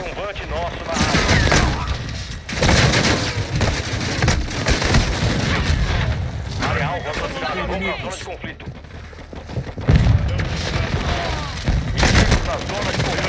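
Grenade explosions and gunfire fill a match on the Shipment map in Call of Duty Modern Warfare 2: repeated sharp bursts and booms, one heavy blast near the end, with a voice speaking in Portuguese over the fight.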